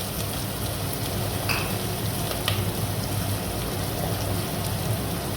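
Chopped onions frying in a pan, a steady dense sizzle that holds at an even level throughout with no pauses, with a couple of faint clinks.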